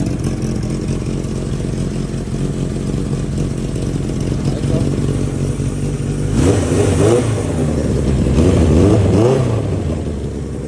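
A 1980 Suzuki GS1100E motorcycle engine idles steadily, then is revved twice in rising, falling sweeps toward the end, loud and close throughout.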